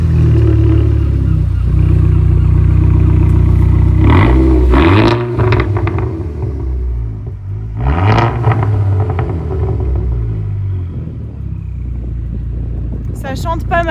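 Modified VW Golf 6 GTI Edition 35 making 320 hp, with added aftermarket tailpipes, gives a deep steady exhaust rumble close by, with a couple of throttle blips around the middle; people talk over it.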